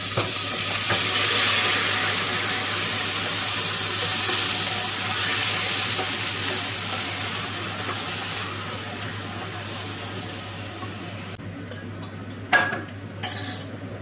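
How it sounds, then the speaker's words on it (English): Rice tipped into a pot of butter-toasted ingredients for a Turkish home meal, setting off a loud, steady sizzle that gradually softens, with a few sharp utensil clinks near the end. "Now I'm adding the rice."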